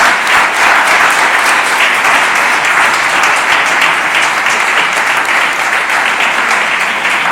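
Sustained audience applause closes an ergonomic risk assessment presentation, a dense, steady wash of clapping from a room of listeners that holds at an even level throughout.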